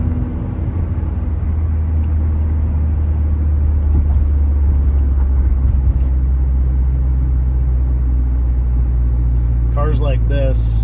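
A 2009 Subaru Impreza wagon with a 5-speed manual driving through a city, its low steady engine and road rumble droning from inside the cabin, with someone talking throughout and a brief chirp near the end.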